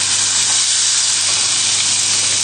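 Pork tenderloin sears in a hot pan, a loud, steady sizzle and hiss holding unbroken throughout.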